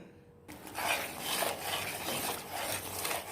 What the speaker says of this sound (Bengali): চাটনিতে এভাবে অনবরত নাড়তে হবে যেন নিচে দাগ লেগে না যায়